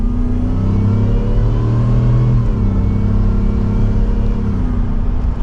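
Ford F150 Shelby pickup with 775 horsepower accelerating in manual mode from second gear: a loud, continuous engine drone climbing steadily in pitch, heard from inside the cab, with a brief dip at a gear change midway.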